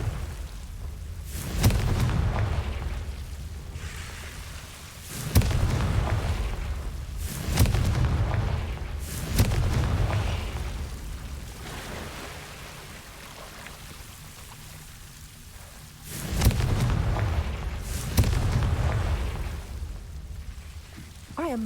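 Confringo fire spells blast in the Hogwarts Legacy video game, each landing as a deep, heavy boom that decays into a rushing roar. Several explosions come in irregular bursts, with quieter stretches between them.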